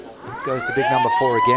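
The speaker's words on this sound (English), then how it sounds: "and that is the siren for half time." A long, steady siren tone that rises slightly marks half time at an amateur Australian rules football match in wet, windy weather, sounding under a commentator's talk.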